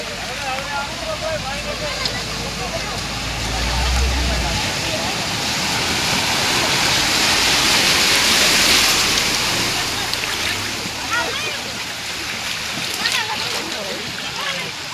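Floodwater rushes over a road after a cloudburst of 10 inches of rain in 2 hours, pouring and splashing in a broad, steady roar, swelling in the middle, while people talk nearby.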